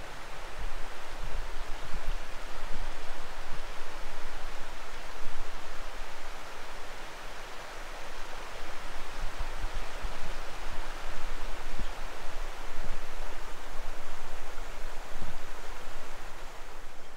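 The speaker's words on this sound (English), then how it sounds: "Hear the water." Steady running water of a stream beside a wooded trail on a Washington State Highway 20 road trip, near an old CCC camp. A continuous, even rush carries on unbroken throughout, with a few faint low knocks underneath.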